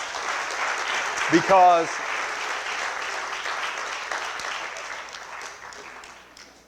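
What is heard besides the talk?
congregation applause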